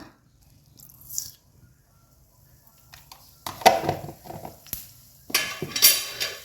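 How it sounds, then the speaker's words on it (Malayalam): Mustard seeds dropped into hot coconut oil, quiet at first, then bursts of sharp popping and spattering crackle building in the second half, with a faint clink near the start. "കട് പൊട്ടി തുടങ്ങി"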